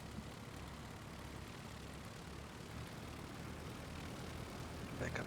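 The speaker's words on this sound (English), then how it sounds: "Go to idle, make sure the engine don't quit." Piper Arrow piston engine idling in a flight simulator, a steady low drone with even broadband hum, moderately quiet and unchanging throughout, with no talk.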